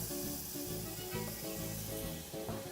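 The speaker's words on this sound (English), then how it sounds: "your pan is nice and hot, so we're going to start off by adding a tiny bit of oil and about 1 teaspoon of some unsalted butter" Oil and a teaspoon of unsalted butter sizzle steadily in a hot pan, a close, continuous hiss with faint crackle throughout, no talking.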